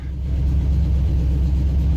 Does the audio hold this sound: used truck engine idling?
yes